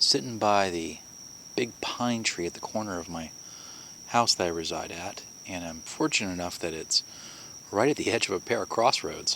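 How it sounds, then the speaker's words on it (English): Someone talks quietly and close at 2 a.m. while a single steady cricket chirp rings continuously in the background. "if you hear some crickets chirping in the background"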